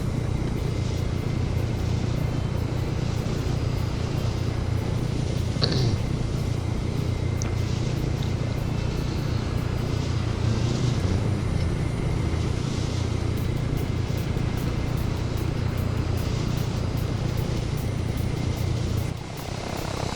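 Aircraft engine drone in the video game Arma 3 as a plane flies steadily, a loud continuous low rumble with a faint higher whine, holding for the whole stretch with no talk.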